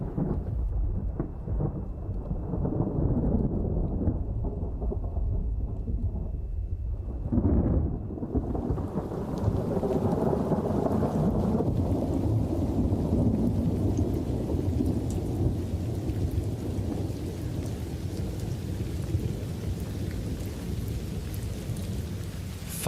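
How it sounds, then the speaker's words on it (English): Thunderstorm over the Kalahari desert: a deep, long rumble of thunder rolls in, then steady rain hiss fills the rest, loud and close with no voices. "Finally, rain brings some moisture to the land."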